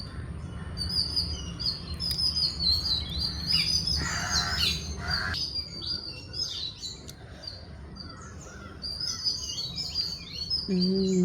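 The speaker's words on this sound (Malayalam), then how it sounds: "പല കിളികളുടെ ശബ്ദം" Many birds calling outdoors: a dense chorus of chirps and tweets, some nearer and brighter, over a low steady background hum, with no clear talk.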